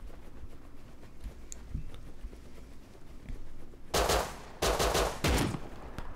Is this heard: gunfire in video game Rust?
yes